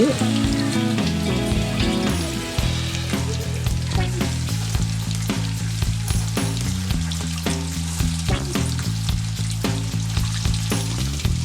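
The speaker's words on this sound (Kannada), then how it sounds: "ಒಲೆ ಮೇಲೆ ಬಾಣಲೆ ಇಟ್ಟು ಎಣ್ಣೆ ಕಾದ ನಂತರ ಒಂದೊಂದೇ ಪೀಸ್ ಕಾಯಿಸ್ಕೋಬೇಕು." Chicken pieces for chilli chicken deep frying in hot oil in a pan, a loud dense crackling sizzle that runs throughout, close up, with repeated sharp knocks and clatters over the bubbling.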